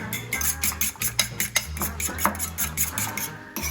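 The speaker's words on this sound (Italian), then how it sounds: "Poi abbiamo un piatto con 2 uova, un po' di pepe e un po' di sale, che andiamo a sbattere." Two eggs with salt and pepper beaten on a plate with a fork, rapid rhythmic clicks and scrapes of metal against ceramic, close and continuous with no talking.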